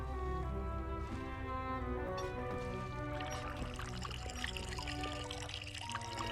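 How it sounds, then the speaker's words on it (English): Potion poured over a volunteer in the Book of Potions game, a soft liquid pour and trickle set against steady game music, quiet and continuous. "Pour the potion over him."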